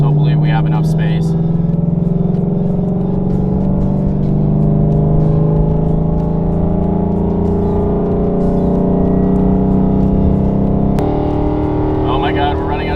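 A 700 whp ProCharged Mustang engine climbing steadily toward 5,000 RPM, a loud continuous drone whose pitch rises slowly, then an abrupt shift near the end, with a voice briefly heard.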